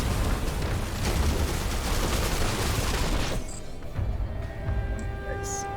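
Missile barrage from mechs in the Phantom Brigade video game, a dense rumbling run of overlapping explosions and booms that fades out after a few seconds, leaving quiet game tones.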